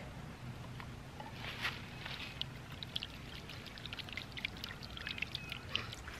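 A water ram pump set up with only about 20 inches of head runs after its valve is opened, giving faint, irregular splashing, trickling and tapping of water against a soft continuous rush.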